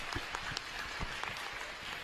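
An audience at a ceremony, a university honorary doctorate presentation, breaks into steady applause, many hands clapping together at moderate loudness throughout, without talk.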